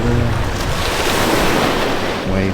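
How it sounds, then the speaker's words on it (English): Ocean waves crash and wash steadily at a beach in Santorini, a loud, continuous roar of surf with wind buffeting the microphone throughout, no voices over it. "Waves crashing."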